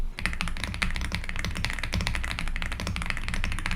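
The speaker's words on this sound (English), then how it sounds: "Listen to how creamy and smooth these switches sound right out of the box." Steady, fast typing on an Aula F75 mechanical keyboard with pre-lubed switches, dense soft clacks close up and continuous with no talking.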